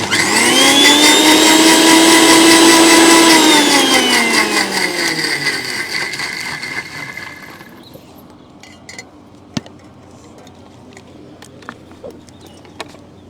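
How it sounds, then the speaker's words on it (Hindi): A mixer grinder whirs loudly as it blends mint and coriander leaves with water, a steady high whine that winds down and stops, leaving quiet scattered clicks afterward. "ये आप इसमें डालेंगे और इसे दोबारा से एक बार ग्राइंड करेंगे"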